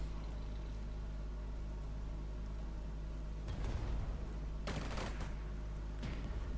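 Artillery and gunfire sound in Strategic Mind: Blitzkrieg during the Invasion of Poland mission: a steady low battlefield rumble broken by a few sharp, loud bursts of firing and explosions.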